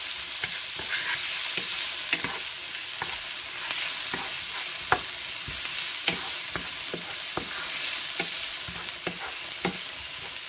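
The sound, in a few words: sautéing garlic and onions in a pan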